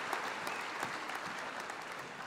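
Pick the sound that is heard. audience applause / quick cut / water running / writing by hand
audience applause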